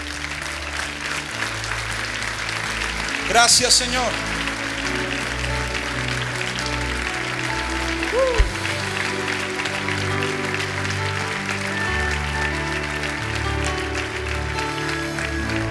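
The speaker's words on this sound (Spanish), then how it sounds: "Póngase de pie y un aplauso fuerte al Señor." A church congregation standing and applauding loudly, sustained clapping from a large crowd that carries throughout, with a few voices calling out over it.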